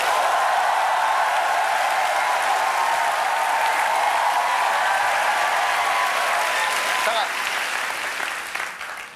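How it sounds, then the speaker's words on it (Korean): Studio audience applause on a Korean comedy show as votes go to a team, sustained clapping with crowd noise that fades near the end, and a voice briefly heard within it. "자, 박수 주세요."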